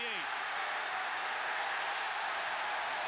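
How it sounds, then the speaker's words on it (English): Roaring crowd noise fills an American football stadium during a Chicago Bears and Washington Redskins game, a loud, broad, continuous wash of cheering with a commentator speaking over it. "This crowd noise is unbelievable"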